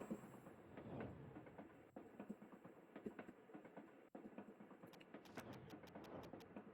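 A train running in a video game, with continuous rolling rumble and a rhythmic clickety-clack of wheels over rail joints, a couple of sharp knocks, and faint high ticks near the end.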